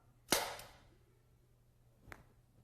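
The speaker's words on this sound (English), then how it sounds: "I'm going to fire the gun now." A gun launching a golf ball straight up fires with one sharp, close bang that rings off and fades, followed about two seconds later by a fainter short knock.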